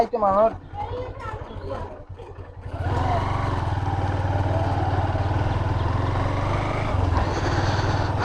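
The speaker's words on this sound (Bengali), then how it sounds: "এখন সামনে আগাই দেখি বাইক নিয়ে কত দূর যাওয়া যায়" A motorcycle rides along a sea beach at dusk, its engine droning steadily and close after someone speaks briefly, holding an even rumble to the end.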